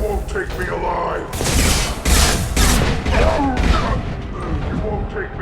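Mass Effect 2 combat fills the scene with a chaotic mix of gunshots, booms and impacts, several heavy bursts in a row, with voices talking and shouting over the fighting.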